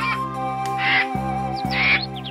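A cartoon crow in an animated children's story gives two harsh caws about a second apart, standing out over a sustained tonal musical backing.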